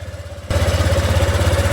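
A Honda Click 125i V2 scooter engine fires up after a brief low idle and settles into a steady, throbbing idle, close and loud with a pulsing beat.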